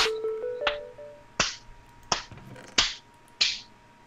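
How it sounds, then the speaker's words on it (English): A person slow claps: five or six sharp, evenly spaced hand claps about two-thirds of a second apart, close and clear, with a few soft tones near the start. "Slow clapping. Oh, it was you clapping."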